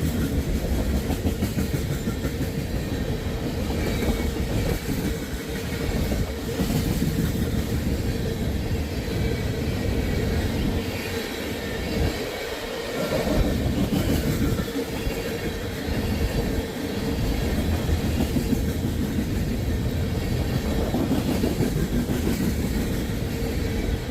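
A CSX manifest freight train rolls past in a long, steady rumble of wagons and clattering wheels, loud and continuous, with brief dips in level but no talk.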